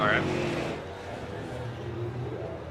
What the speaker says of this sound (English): I just now started hearing cars going past my ears